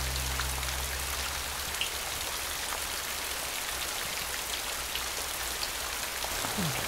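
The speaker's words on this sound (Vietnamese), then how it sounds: "Ủa ngoài trời mưa lớn lắm hả con?" Heavy rain falls outside as a constant, loud, close hiss of drops with a low rumble underneath, continuing evenly without pause.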